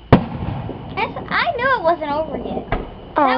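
July 4th fireworks go off with a sharp bang near the start and further pops and crackles as a child and other people talk excitedly throughout.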